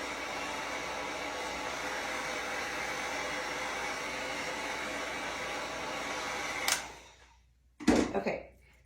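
A hair dryer runs steadily at close range, drying paint on a rustic blueprint craft project, then switches off abruptly, followed by a short burst of handling noise.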